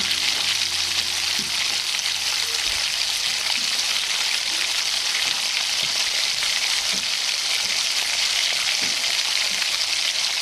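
Onions and cumin seeds fry in hot oil for prawn and jackfruit curry, a dense continuous sizzle heard close and loud, with faint scattered stirring taps beneath.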